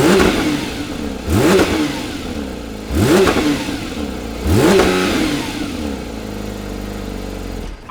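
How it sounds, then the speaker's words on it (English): Porsche GT3 RS on a cold start, its engine revving three times in sharp rising bursts that fall back toward a steady idle, close and loud with no talking. "let's get a little cold start to see how it sounds"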